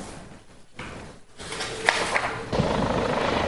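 An Italian Air Force helicopter carries a papal delegation over Molise, giving a steady broadband rotor and engine roar that grows louder and rougher halfway through, with no voices.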